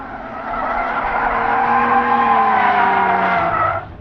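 Tires on a 2022 Cadillac CT4-V Blackwing skid and squeal loudly on a race track, one long sustained wavering screech lasting several seconds, close and alone without talking.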